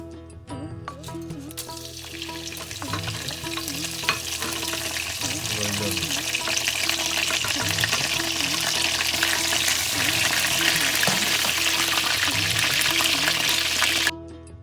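Duck curry cooking in mustard oil and vegetable oil bursts into a loud, continuous sizzle that holds steady for several seconds before cutting off abruptly near the end, with no talk.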